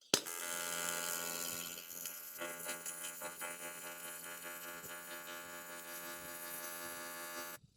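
TIG welding on uncleaned steel with a balled tungsten and a YesWelder FIRSTESS CT2050 7-in-1 welder: a steady electric buzz and hum that starts abruptly and runs unbroken for several seconds, close and alone.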